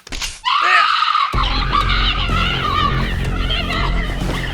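A loud, piercing scream from a victim bursts out after a brief shrill onset, then continues as strained, wavering shrieking over a dense rumbling background for several seconds.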